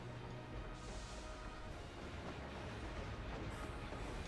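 A train engine runs in Final Fantasy XIV, a steady rolling rumble with a faint clatter that holds evenly throughout, close and continuous with no voices.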